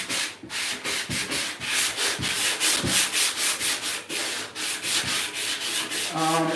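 Wet sandpaper works primer on a figure's body in quick, rhythmic back-and-forth rubbing strokes, close and fairly loud, with a few heavier scrapes and no talking.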